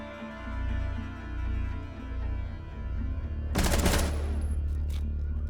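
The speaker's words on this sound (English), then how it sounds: "And he is down for the count, shot in the head by Polar Express" A sudden burst of rapid gunfire from the Rainbow Six Siege video game cuts sharply through a droning in-game background, loud and close, then fades into echoing tails.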